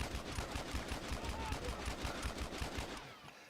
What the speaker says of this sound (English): Now we're in game with our crazy pistol, which fires almost like it was full auto.